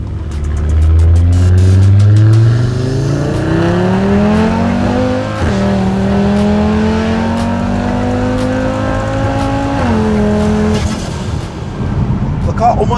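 Audi RS3 five-cylinder engine swapped into a VW Tiguan family SUV on air suspension, loud and close, revving hard in rising and falling sweeps with sharp shift drops, throaty and continuous throughout.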